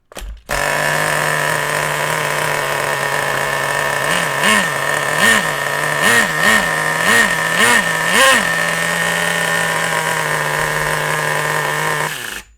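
A small RC nitro engine runs at a high, buzzy idle, gets a series of quick throttle blips in the middle, then settles and cuts out at the end.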